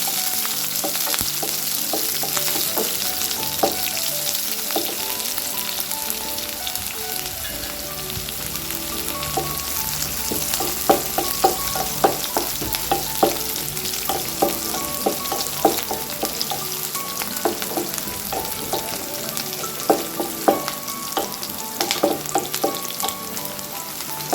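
Onions fry in oil with a loud, continuous sizzle and crackle, popping irregularly throughout, close up and without any voices.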